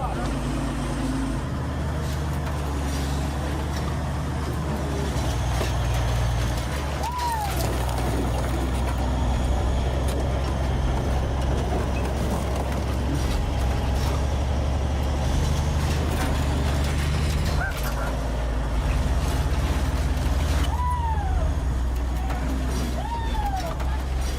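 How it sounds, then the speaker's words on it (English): A heavy armored bulldozer grinds and rumbles continuously as it plows through a row of cars, with a deep engine drone, scraping crunches and occasional metallic squeals under intermittent talk. "The first stage of our killdozer testing is to plow through these 8 cars."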